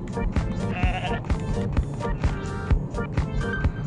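Bleats from the goat in the Goat Simulator video game on PS4, repeated loud, wavering cries one after another without pause.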